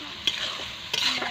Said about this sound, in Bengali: এখানে আলু ভাজা কমপ্লিট, এখানে পেঁয়াজ ভাজা চলছে।